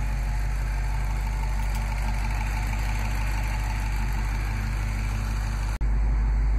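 A 2015 Dodge Challenger SRT Hellcat's 6.2-liter supercharged Hemi V8 idles steadily with a deep, loud rumble and constant low drone, heard close with no talk.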